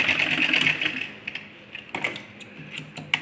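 Sewing machine stitching ladies' pajama fabric, a rapid whirring run of stitches at close range that slows and breaks into a few short bursts, fairly quiet.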